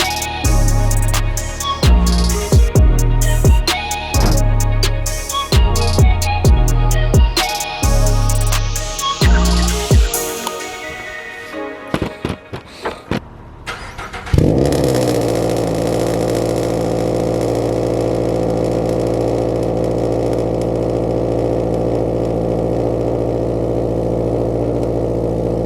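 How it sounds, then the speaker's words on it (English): A 2022 Subaru BRZ with UEL headers sits outside on a cold day. Uneven clattering comes first, then the engine fires up with a sharp burst and settles into a steady, throaty idle. "we're gonna go ahead and roll the BRZ outside a little bit and we'll see how this thing sounds"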